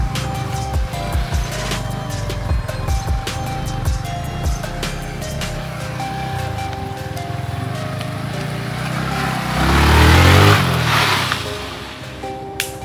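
A Dominar motorcycle off-roading in thick mud, with intermittent engine rumble and clunks building to a loud, close rev surge near the end before easing off.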